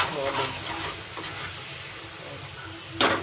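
Masala spices for chole fry and are stirred in a pan, giving a steady close sizzle with scraping stirs throughout and a sharper burst near the end.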